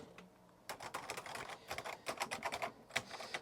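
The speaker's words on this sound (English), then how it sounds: "So that's the keyboard." Fingers tap on a spongy Amstrad computer keyboard, a quick, uneven run of soft close clicks that starts after a short pause and continues to the end, fairly quiet and free of talk.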